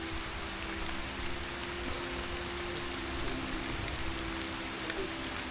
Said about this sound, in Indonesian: kita langsung disuguhi oleh hujan deras dan juga petir teman-teman